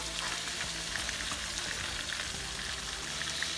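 Lamb chops frying in oil with garlic and onions, a steady dense sizzle with crackling spatters throughout, close and continuous with no talking.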